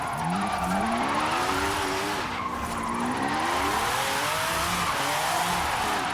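MG XPower SV-R from 2005, rear-wheel drive, drifting in sixth gear in a racing video game: a steady engine note holds throughout with wavering pitch under continuous loud tire squeal, no talk.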